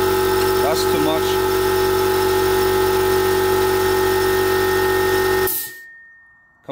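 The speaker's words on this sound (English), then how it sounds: "Compressor is off." An air compressor drones steadily through an engine leakdown test on a BMW E46 with the M54 engine, its loud, constant hum going on for several seconds before it shuts off and trails into near silence.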